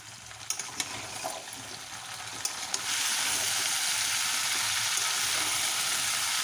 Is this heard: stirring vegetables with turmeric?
yes